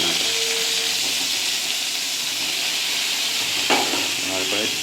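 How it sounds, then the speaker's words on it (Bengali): Ridge gourd pieces fry in oil while being stirred, giving a steady sizzling hiss with a brief tone early on and a sharp scrape of the spatula near the end, without speech. "ভালো করে নেড়ে ভেজে নেওয়া হবে এটাকে"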